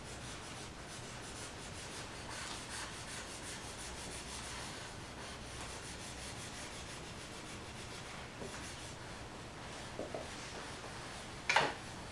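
Rubbing out a pencil drawing with an eraser or finger gives soft, continuous close scuffing and rubbing on paper, with a few light taps near the end.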